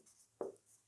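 Pen or chalk writing during a Hindi-language class 10 maths lesson on circles and quadrilateral angles: one short scratchy stroke, near and fairly quiet, in a hushed room with no talk.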